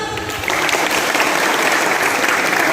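Sustained applause from a school orientation audience at SMKN 1 Doko, a dense wash of many hands clapping at steady loudness, with a brief voice at the very start before the clapping swells.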